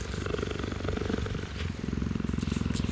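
An African cheetah purring while meerkats groom its fur: a close, steady, rumbling purr in rapid rhythmic pulses that continues throughout, with no speech.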